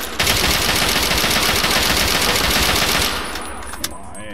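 Sustained machine gun fire in the video game Fallout 3, a loud continuous rattle of rapid shots lasting about three seconds before cutting off, leaving quieter game sounds and one later pop.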